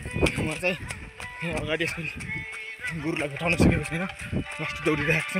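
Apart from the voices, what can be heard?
goats bleating in the rain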